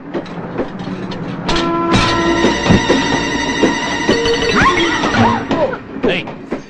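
A train rumbles along steadily in a Telugu comedy film scene, with a sustained tonal hum riding over the running noise and people talking loudly over it.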